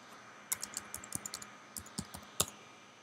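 Keys clatter on a computer keyboard as login details are typed into a web sign-in form: a quiet, irregular run of a dozen or so crisp clicks, close up, with no voices.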